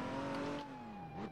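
Car driving in a Roblox game, a steady synthetic engine drone with a gliding pitch that sags and rises, heard alone and fairly quiet.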